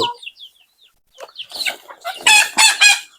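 Native deshi chickens cluck and chirp softly at first, then louder clucking and calling build up close by, with a rooster-like crow in the final second, all without speech.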